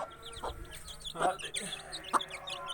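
A hen clucks repeatedly in short, irregular bursts nearby, with a few sharper calls and light background rustling.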